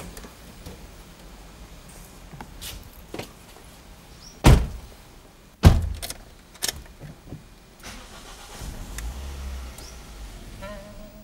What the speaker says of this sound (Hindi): किसी ने गाड़ी स्टार्ट की थी?